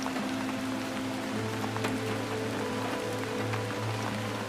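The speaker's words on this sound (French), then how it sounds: "Imaginez maintenant que ce tic-tac se transforme progressivement en une pluie légère." Light rain patters softly and steadily in a calm meditation soundscape, a fine, even hiss of drops with a faint low hum beneath it and no voices.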